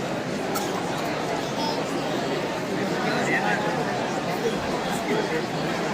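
A huge crowd at the March for Freedom rally in Barcelona fills the air with dense, continuous chatter and babble at close range, a steady murmur of many voices throughout.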